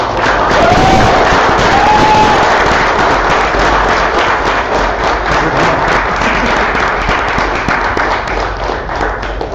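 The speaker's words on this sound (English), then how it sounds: "everybody should just give each other a big round of applause" A large crowd at a hackathon awards event applauds loudly and continuously, with dense clapping and a few whoops and cheers rising above it.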